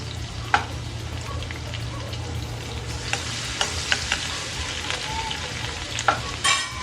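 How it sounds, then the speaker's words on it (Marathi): Crushed garlic cloves, about ten to twelve, frying in hot oil in a pan for a spring onion dish, a steady close sizzle with a low hum beneath and a few sharp clicks of stirring. "आता त्याच्यामध्ये आपण ॲड करतोय आपला ठेचलेला लसूण"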